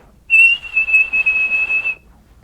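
A voice mimics a radiator valve whistling under steam pressure, a steady high whistle about two seconds long that wavers slightly in loudness, close and alone.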